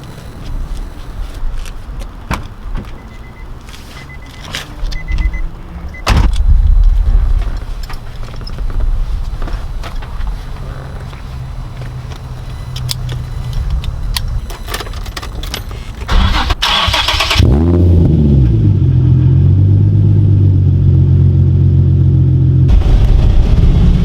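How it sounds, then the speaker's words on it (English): A raceable show car doing a red line burnout, with rattling and clunks giving way to a loud, sustained engine roar held at high revs, close and continuous to the end. "We're gonna do a red line burnout."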